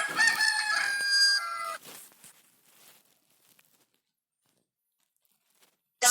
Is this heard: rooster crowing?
yes